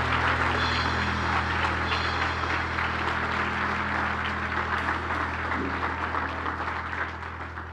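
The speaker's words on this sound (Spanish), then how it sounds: "Dale un aplauso al Señor. Fuerte." A church congregation applauds loudly and steadily during a worship service, the dense wash of many clapping hands sustained throughout and easing slightly toward the end, over a low steady hum.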